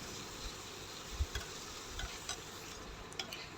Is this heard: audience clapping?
no